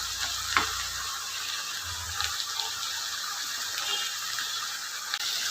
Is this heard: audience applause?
no